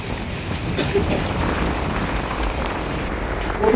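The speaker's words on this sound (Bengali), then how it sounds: "কি হাওয়া দিচ্ছে, ফুরফুরে হাওয়া।" Strong wind blows during rain under dark, heavy clouds before sunset, a steady broadband rushing with rain patter, close and fairly loud throughout, ending in a louder gust.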